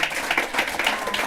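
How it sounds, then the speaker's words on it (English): A brief burst of audience clapping for panelists at a live event, close and fairly loud, with individual hand claps standing out in an uneven rhythm. "Let's give them a big round of applause."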